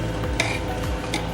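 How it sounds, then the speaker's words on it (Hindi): Tadka being stirred into a pot of cholai and palak saag: a brief close scrape of a spoon in the thick greens with a couple of light metallic ticks against the pot, under a steady background hum. "अब इसे चलाइए, मिक्स कर दिए इसे तड़के को खूब।"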